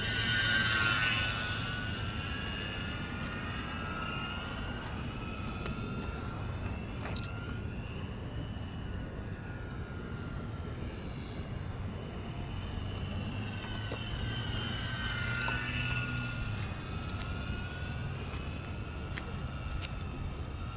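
A Fun Cub 4CH 1100mm EPO electric RC airplane flies at a distance, its motor a faint steady buzz that rises and falls in pitch as the plane turns and passes.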